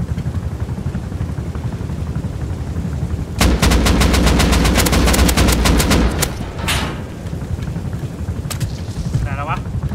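Rapid gunfire in the survival game Rust, a dense burst of automatic shots lasting a few seconds, then scattered single reports, over steady background noise with people talking throughout.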